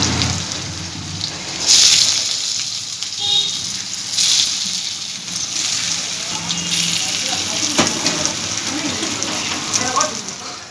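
Pointed gourd stuffed papad fries in hot mustard oil, giving a bubbling, hissing sizzle with sharper crackling bursts that swell and fade, heard close under a voice.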